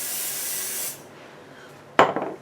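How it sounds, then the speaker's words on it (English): Pixie spray adhesive is sprayed onto a stencil in a steady, close hiss lasting about a second. It cuts off, and after a short quiet pause a single sharp clack rings out. "I'm going to use some of this Pixie spray."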